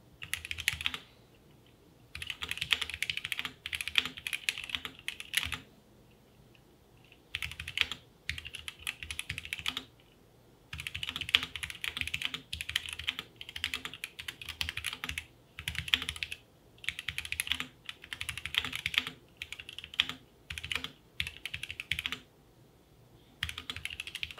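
Drop Sense 75 mechanical gaming keyboard typing, close and clear, in bursts of rapid clacking separated by short pauses.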